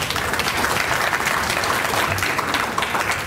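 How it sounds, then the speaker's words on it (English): Steady, loud applause rolls through a teachers' gathering audience at an education reform talk, many hands clapping together without a break. "Give yourself a round of applause."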